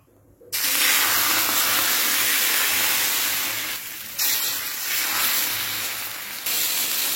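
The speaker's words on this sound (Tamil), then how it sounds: "அடுத்த தோசையும் வேக விட்டு திருப்பி போட்டாச்சு" Dosa batter sizzling on a hot oiled griddle, a loud, close, continuous hiss that starts abruptly and dips briefly twice before surging back.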